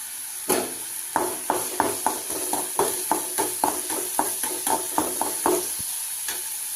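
Onions and green chilies sautéing in a pan for a ragi bun dosa batter, with a steady sizzle broken by a run of sharp, rhythmic spatula taps and scrapes against the pan, close up and with no talking.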